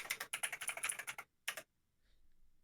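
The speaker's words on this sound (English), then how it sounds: "Mind my extremely loud keyboard" Bursts of rapid, loud clacking on a loud computer keyboard, a dense run of keystrokes followed by a short pause and a brief second flurry, then near silence.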